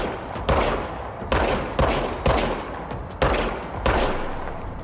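Weapon fire in the video game Control: six sharp, loud shots spaced under a second apart, each with a booming tail that decays before the next.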